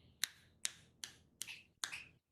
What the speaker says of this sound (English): you learn to snap your fingers